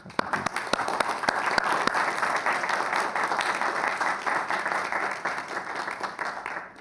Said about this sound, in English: So I would like to give her a round of applause.